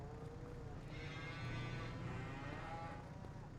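Cattle in Farming Simulator 25 on an Irish farm map give a drawn-out, faint moo over a constant low rumble of farm ambience.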